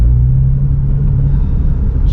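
A car engine hums steadily while driving, a loud, continuous low rumble of road and motor noise from inside the cabin with no talk.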